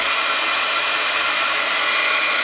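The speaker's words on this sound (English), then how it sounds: "I'll heat up my gun, or my embossing tool I should say." An embossing heat gun blows hot air in a loud, steady, continuous whoosh with a high-pitched whine, held at the same level throughout with no talking.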